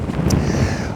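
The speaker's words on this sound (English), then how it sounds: "God, it is so windy" Strong wind on the Scottish coast at Assynt in cold early summer, roaring steadily and buffeting the microphone with a deep, continuous rumble and no voices.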